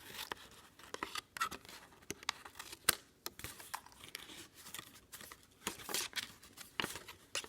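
Paper card from a cube box that needs no adhesive is cut through, giving a quiet run of irregular, crisp snipping and crinkling clicks at close range with no talking.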